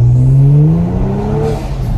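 A loud turbocharged Kia Stinger engine revs up under all-wheel-drive acceleration, its pitch climbing steadily with a whirring drone, then easing off as the throttle lifts.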